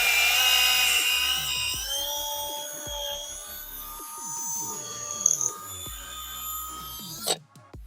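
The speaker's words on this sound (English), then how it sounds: "drill down either side, crack the casing" Drill boring into plastic-cased axle bushes during Ford Fiesta axle bush replacement, a high whining drill tone that rises and falls over several seconds, with knocks and clatter of the workpiece and a sharp clunk near the end.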